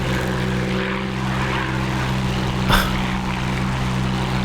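A P-51 propeller fighter drones on steadily in the DCS combat flight simulator, its engine a loud, even hum with a brief swelling burst near the end, and no voices.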